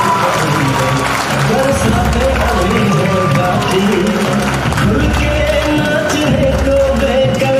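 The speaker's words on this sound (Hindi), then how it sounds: "वंस अगेन एक बार जोरों ताली हो जाए बलविंदर सिंह जी और मनजीत कौर" An audience at a marketing event applauds in a steady, sustained wash of clapping, with a voice speaking over it throughout.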